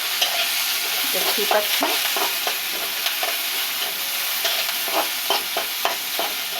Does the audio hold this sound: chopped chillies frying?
yes